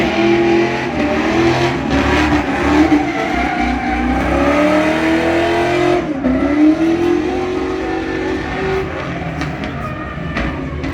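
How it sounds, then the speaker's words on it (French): A V8 race car roars around the Circuit du Val d'Argenton, its engine loud and close. The revs rise and fall through gear changes as it accelerates along the track, sustained across the whole stretch. "Oh, le bruit de V8 c'est magique."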